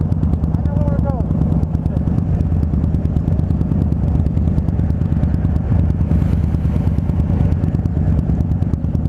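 A Harley-Davidson Dyna Street Bob motorcycle is ridden through Ocean Beach, its engine giving a constant loud low rumble with wind noise, and voices talk over it.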